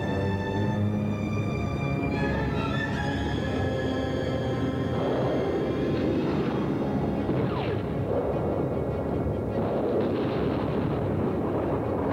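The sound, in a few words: naval cannon and tank gunfire explosions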